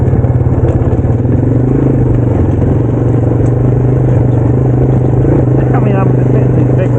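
A Yamaha TW200 converted with ATV wheels, running low rear tire pressure, thumps and rumbles steadily over big trail rocks, its single-cylinder engine loud and close with rattling clatter throughout.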